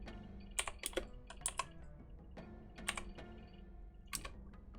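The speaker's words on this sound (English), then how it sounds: "Are you typing it to me?" Someone types on a computer keyboard nearby, irregular clusters of clicky keystrokes over a low steady background hum, with no talking.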